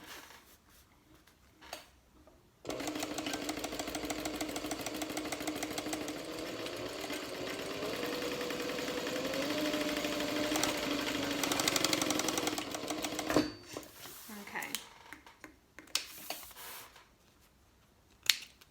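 A sewing machine stitches a wider seam across the flap of a Mini NCW wallet made without interfacing, running as a steady, close whir for about eleven seconds, with a few soft handling clicks before and after.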